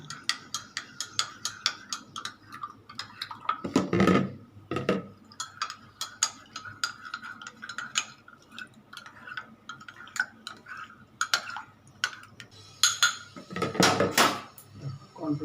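Milk stirred in a pot for malai kulfi, a metal spoon scraping and clinking against the pot in a long run of uneven, close strokes, with a few louder knocks near the middle and end.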